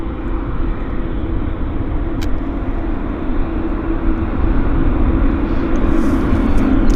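A heavy jet aircraft at Vancouver Airport roars as a loud, steady, broadband rumble that swells slightly toward the end, heard up close with no voices.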